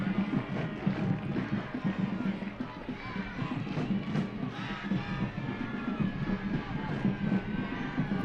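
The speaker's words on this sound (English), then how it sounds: "Crowd in Laval has not let up with the energy." Stadium crowd roaring steadily at a women's Northern Super League soccer match in Laval, Montréal Roses FC against Calgary Wild FC, a dense continuous wash of cheering with wind-like rumble throughout.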